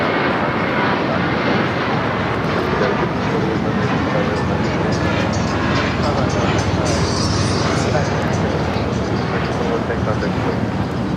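An airliner bound for Boston rumbles steadily at LAX, a loud, continuous broadband roar of jet engines lasting throughout, with a voice talking over it.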